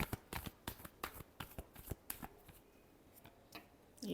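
Tarot cards are shuffled by hand in a quiet room. Crisp riffling bursts come in a quick uneven rhythm, about a dozen soft flicks and snaps, then thin out and stop.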